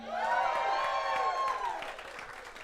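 A large crowd cheers and whoops with scattered clapping, loud and sustained, the excited shouts gradually tapering off.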